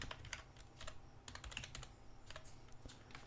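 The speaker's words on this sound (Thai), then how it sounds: "เดี๋ยวผมพิมพ์อีกนะครับ พิมพ์เดือนด้วยนะครับ" Typing on a computer keyboard while filling in an Excel sheet, with quick irregular clusters of soft key clicks close by and no talking.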